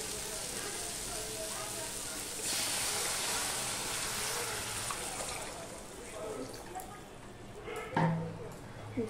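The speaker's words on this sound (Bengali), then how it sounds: "যেহেতু পাতলা ঝোল করব সেজন্য জলটা এতখানি দিলাম" Water is poured into a hot pan of fried spices for a thin singi fish curry. A rushing hiss rises sharply, then settles into a softer bubbling sizzle, with faint clatter near the end and no talking.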